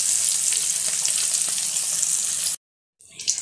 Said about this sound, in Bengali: কাঁকরোলটা ভাজা হয়ে গেছে, এই যে কালার চেঞ্জ হয়েছে, আমি 3 মিনিট ভাজলাম।